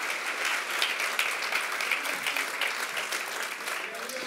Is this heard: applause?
yes